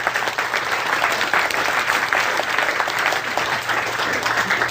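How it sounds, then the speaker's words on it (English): Audience applause after a stage hypnosis demonstration of an instant induction, a dense, steady roar of many hands clapping at once, sustained and loud, with no talking over it. "give me a nice round of applause"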